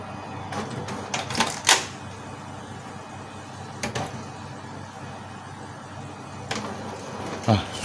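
A Canon MP287 inkjet printer powers on with an error fault, giving scattered mechanical clunks and short whirring bursts of its carriage and rollers at close range over a low background hum, with occasional speech.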